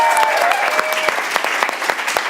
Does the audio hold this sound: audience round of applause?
yes